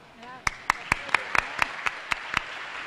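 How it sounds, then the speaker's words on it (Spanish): A small audience at a lecture on data protection rights claps for a guest: about ten sharp, sparse claps spread over a few seconds, fairly close and moderately loud. "por favor, párese para que le den un aplauso"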